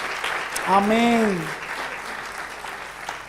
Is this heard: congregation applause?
yes